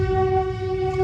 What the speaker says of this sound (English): Have a train passing by,